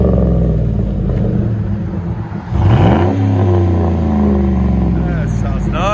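A 2009 Chevy Silverado with a 5.3L V8 and Flowmaster Outlaw exhaust idles with a deep rumble, dips briefly, then revs hard into a loud, rising roar before settling to a steady throaty drone, heard close up.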